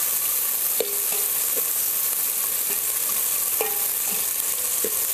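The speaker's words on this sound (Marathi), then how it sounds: "आणि चांगलंच आपल्याला कांदा आहे ना परतून घ्यायचा." Thinly sliced onion sautéing in a pan, with a steady loud sizzle throughout and a few sharp clinks of a spoon stirring against the pan, close up with no talking.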